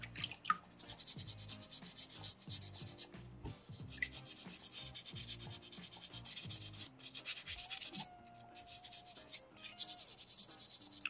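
Sandpaper rubs back and forth over a soapstone fish carving in steady, close scratchy strokes, pausing briefly between passes, with a faint tone drifting in the background.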